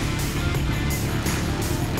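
A Volkswagen-engined tube-frame off-road buggy with Patrol axles, custom-built, roars loudly and continuously close by, a dense rough engine drone with rushing noise that pulses slightly as it drives.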